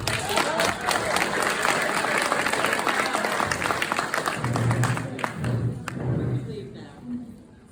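Applause from an audience at a public development meeting, a dense stretch of clapping with some thumps, thinning toward the end as a few voices come through in the room.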